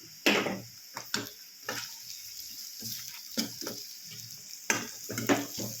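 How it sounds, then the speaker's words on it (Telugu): Carrots and green chillies in oil give off a quiet crackle in a pan, broken by a series of sharp stirring clicks and bursts spread irregularly through the stretch. "క్యారెట్ పచ్చిమిరపకాయలు ఇవి రెండు వేసుకోవాలి వేసుకొని ఫ్రై చేసుకోవాలి"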